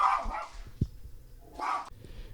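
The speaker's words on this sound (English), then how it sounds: "got my dog going crazy outside" A small Morkie, a Maltese mix, barking outside in two short bursts of yappy barks with a pause between, moderately near, no talk.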